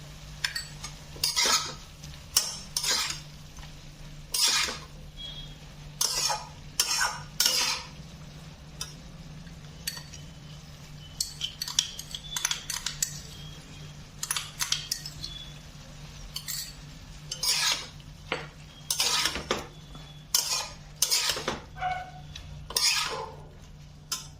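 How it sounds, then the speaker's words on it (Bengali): A spoon scrapes and clanks in a pan as a paste of ground mustard, green chilli and salt is stirred into a drumstick curry, with repeated rhythmic metallic scraping and knocking close by. "এখন আমি এই পেস্টটা সজনে ডাটার মধ্যে দিয়ে দেবো"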